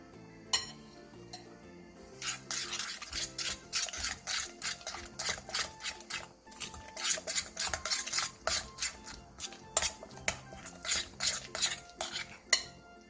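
A utensil scrapes and clinks against a bowl while thick Korean chili-flake seasoning paste with fish sauce and rice paste is stirred, with quiet rhythmic rubbing strokes that continue steadily.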